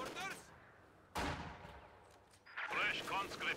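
MG34 machine gun bursts in a World War II strategy video game, sharp rapid fire breaking out mid-scene with more shots trailing after, fairly near, alongside other battle noise.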